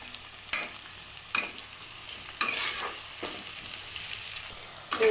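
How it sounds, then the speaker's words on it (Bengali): Onions fry in hot oil for a paneer dish, a close crackling sizzle punctuated by several sharp bursts as a spatula stirs and scrapes the pan. "পেঁয়াজগুলো ভাজা হোক।"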